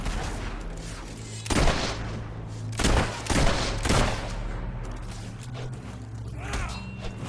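Bursts of gunfire ring out in the desert in Fable 3 on Xbox 360, with one sharp volley early and a cluster of shots a little later, all over a steady low game hum.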